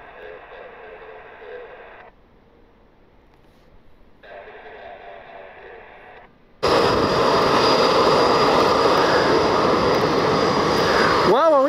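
Aircraft activity at John Glenn Columbus Airport: a steady engine roar surges in loud after a quieter stretch broken by radio-like chatter, then holds strong and close to the end.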